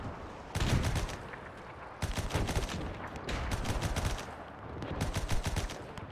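Russian machine gun in the WW1 game Between Empires fires in three sustained bursts, dense rapid shots close and loud with brief gaps between volleys.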